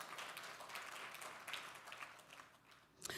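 An audience at a talk on slavery, abolition and emancipation in New York City gives a round of applause, soft, even clapping heard from a distance that thins out toward the end.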